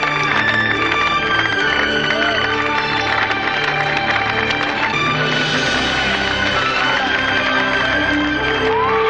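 A film crowd applauding and cheering: a loud, continuous wash of clapping, shouts and whoops from many people, with music playing underneath throughout.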